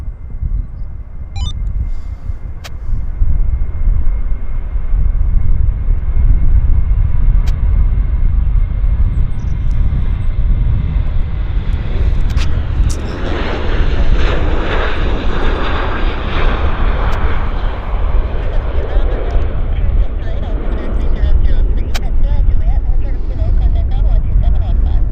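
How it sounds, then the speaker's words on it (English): Airliners taking off from the north side runway at Vancouver International Airport, a loud, sustained jet engine roar that builds and holds, with faint voices underneath. "So this is a takeoff show today."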